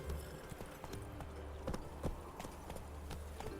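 Horse hooves clip-clop steadily at a trot in The Witcher 3, Geralt's horse Roach moving along at a quick pace, a few sharper hoof strikes standing out over a low rumbling ambience.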